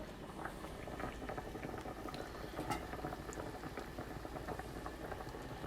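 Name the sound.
taro root boiling in a pot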